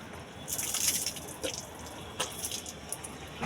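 Water poured out from a vessel splashes and trickles close by, rising to a fuller pour early on, then thinning to scattered splashes and drips.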